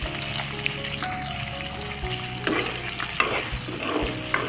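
Pumpkin and potato frying in oil with pork while being stirred, a busy close sizzle broken by repeated spoon scrapes and knocks against the pan, loud and steady, no voices.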